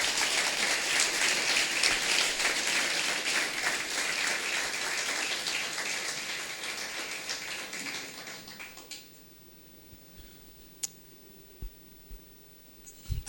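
A church congregation applauding during a sermon, a broad sustained clapping that gradually fades out, leaving a quiet room with a few scattered knocks.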